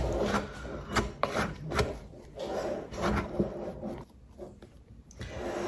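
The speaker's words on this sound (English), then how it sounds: "I'm gonna just use my bowl scraper to kind of scrape down the extra flour." Bowl scraper dragging around a bowl of freshly mixed flour and water dough for a Tartine country loaf, producing close, rough scraping strokes in an irregular rhythm that fade off toward the end, without speech.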